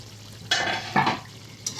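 Chicken stirred in a cooking pot with a low sizzle, a few short scraping strokes in brief bursts, close and fairly quiet, with no talking.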